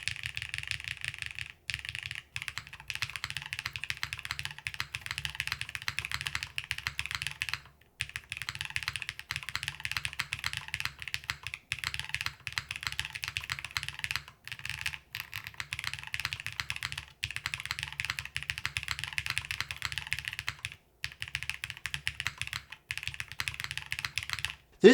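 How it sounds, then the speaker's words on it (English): Steady typing on a plateless Wuque x GDK Lab DK1 60% keyboard fitted with Keygeek Ash switches and GMK keycaps, a dense, continuous run of close clacky keystrokes with a few brief pauses, heard alone. "These are Keygeek Ash switches paired with GMK Keycaps in its plateless configuration."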